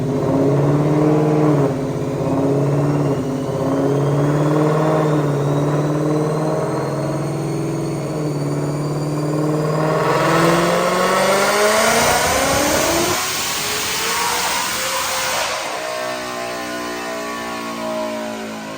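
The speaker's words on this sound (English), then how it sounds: "Check out this dyno pull." A Whipple-supercharged 2019 Mustang GT running on E85 with an automatic revs hard through a dyno pull, its loud engine note climbing steadily to a screaming peak before cutting off, close and alone.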